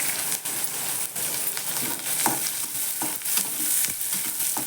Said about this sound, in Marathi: थोडंसं जिरं घालायचं कांदा पण घातला